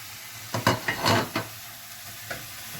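Meat being stirred in a clean pot for Ghanaian okra stew, giving a few short scraping stirs over a faint, steady sizzle.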